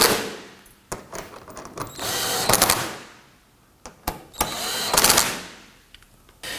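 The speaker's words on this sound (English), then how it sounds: "We're going to get all of our screws started first and then come back and snug them down." A power driver snugs down screws on a 2018-2024 Toyota Camry front bumper cover, firing in short whirring bursts of a second or so with quiet pauses between them, close and loud.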